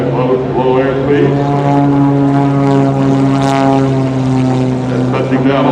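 Gary Ward's MX-2 aerobatic propeller plane flies low and slow past the crowd at the Shaw Air Expo, with a loud, sustained droning engine roar whose pitch shifts slightly as it passes, and an announcer talking over it.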